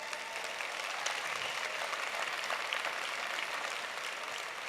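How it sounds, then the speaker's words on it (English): A conference audience applauds its team, a steady wash of clapping hands heard from a distance, fairly faint and even throughout, with no voices over it. "I want to start with giving a big round of applause for our team actually"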